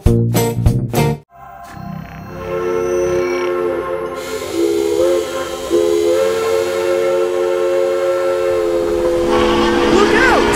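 A steam train whistle sounds long and steady over rumbling and hissing, following a few sharp bursts at the start; loud and close.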